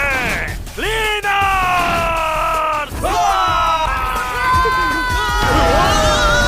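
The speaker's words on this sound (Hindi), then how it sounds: "उनके चीखें सुनकर रूडो को भी जोश आ गया।" Anime characters from Gachiakuta scream and cheer together in loud, sustained overlapping yells, rising in several surging waves of crowd shouting that fill the whole stretch.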